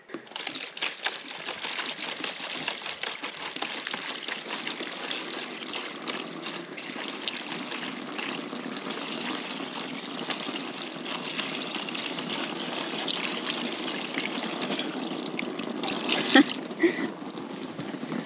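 Water poured steadily while the water on curing olives is changed, off grid in Portugal: a continuous splashing, trickling flow lasting the whole time, close and fairly loud, with a few brief clatters near the end.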